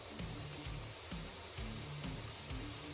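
Spray paint hissing from a can onto metal, a steady broad hiss close to the microphone with faint low knocks and rattles underneath.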